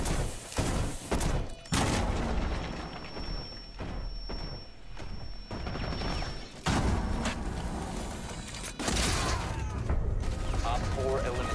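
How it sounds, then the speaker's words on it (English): Rainbow Six video game combat brings bursts of gunfire, thuds and a blast in a dense, loud, chaotic mix, with players talking over the action throughout. "Get ready for explosion!"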